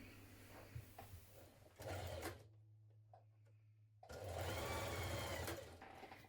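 A home sewing machine runs in two bursts stitching a jumpsuit seam, a rapid mechanical whirr close up, stopping for a couple of seconds in between.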